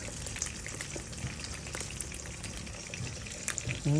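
An omelette frying in a pan, a quiet steady sizzle and crackle with a few faint clinks, heard up close without speech.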